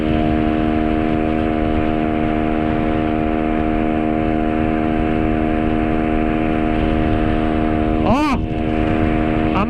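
Honda Pop 110i motorcycle ridden flat out at top speed, a steady loud engine drone with constant harmonic whine throughout, plus a brief sweeping burst near the end.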